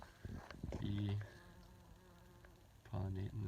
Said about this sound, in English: We got a little bee